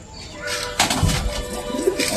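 Pigeons coo inside a loft, soft low throaty calls repeating close by amid a busy flock, with wing flutters and a person's voice in the background.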